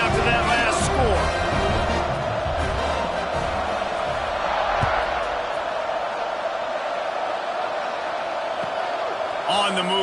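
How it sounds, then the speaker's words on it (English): A football stadium crowd at a UCLA game buzzes after a touchdown, a dense, continuous roar of many voices with scattered cheers and whoops, sitting beneath a commentator's steady talk. "this crowd is buzzing after that last score"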